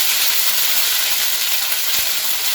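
Ginger sizzling steadily in hot oil with a little salt in a pan, a constant close, bright frying hiss with no talking.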